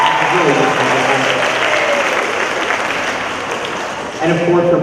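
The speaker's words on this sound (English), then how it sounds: "Mrs. O'Brien, can you give a round of applause for her?" A school audience at an elementary school Veterans Day celebration applauds a teacher, a broad wash of clapping with voices and a few tonal sounds mixed in, dipping slightly before swelling again at the end.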